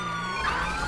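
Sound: police car siren in video game

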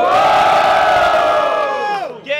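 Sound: battle rap audience cheering and shouting loudly

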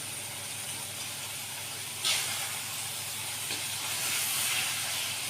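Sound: potatoes roasting in spice masala in a pan

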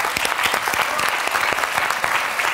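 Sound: audience applause at live show

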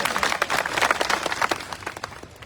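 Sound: crowd applause at farmers' gathering

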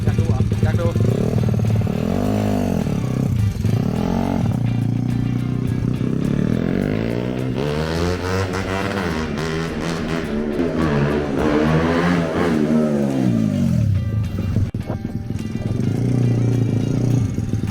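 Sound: Honda Monkey motorcycle engine revving at full throttle on dyno

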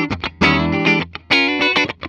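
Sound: Gibson Dragon Les Paul Custom electric guitar playing, middle position

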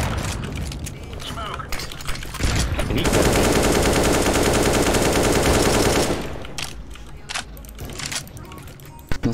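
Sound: gunfire in CS:GO video game

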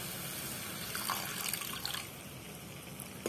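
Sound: pouring water into cooking banana blossom sabzi

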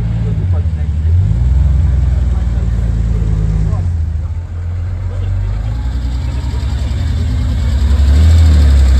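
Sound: Porsche car pulling in, engine idling

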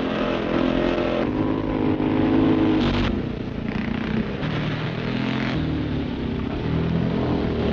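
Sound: scrambling motorcycles riding rough ground in a gravel pit

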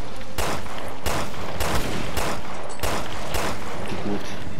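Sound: gunfire in video game Resident Evil Revelations 2

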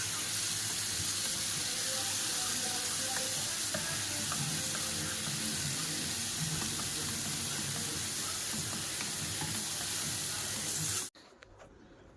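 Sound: chicken pieces frying on a griddle

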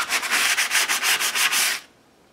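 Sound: scuffing up a dried acrylic paint layer

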